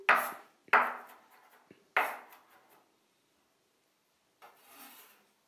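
Garlic cloves sliced and cut into strips with a kitchen knife on a board, heard as three sharp, close scraping cuts in the first two seconds, then a pause and one softer, longer stroke, with no voices.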